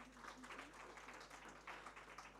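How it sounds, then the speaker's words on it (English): An audience at a summit applauding, a steady wash of clapping from many hands throughout, faint and distant with a low hum beneath. "Can we have a round of applause"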